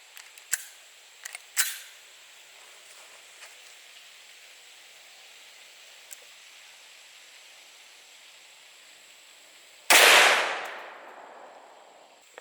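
A Desert Eagle .44 Magnum fires once into a ballistics gel block outdoors, a single sharp, loud blast ringing off after a long quiet stretch, preceded by a few faint clicks and handling taps.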